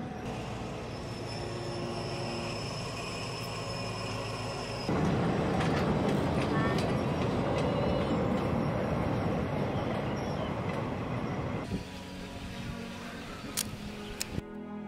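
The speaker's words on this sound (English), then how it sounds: "you stand on little platforms on the edge of the bridge as the train passes" A train passing over a bridge in Thailand, recorded from a platform at the bridge's edge: a loud, steady roar of wheels and rail clatter that builds and holds for several seconds, then eases with faint squeals near the end.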